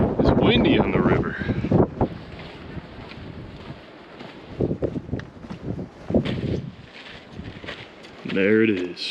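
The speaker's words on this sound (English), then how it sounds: "It's windy on the river." Strong wind buffets the microphone beside the Colorado River at the bottom of the Grand Canyon, roaring in loud gusts that swell and drop, while people talk through it.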